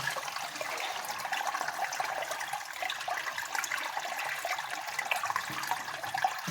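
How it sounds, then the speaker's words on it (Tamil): Mountain spring water gushing and splashing steadily nearby, a continuous lively flow with bubbling spatters. "மலை நீர் ஊற்று"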